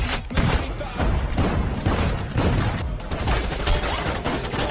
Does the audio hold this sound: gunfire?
yes